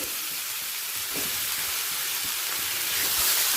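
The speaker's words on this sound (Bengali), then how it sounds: "আরও এক মিনিট হাই ফ্লেমে ভেজে নিয়ে" Pond snails (gugli) sizzle in a pan over a high flame, a steady broadband frying hiss that runs unbroken and grows slightly louder toward the end, with no voices.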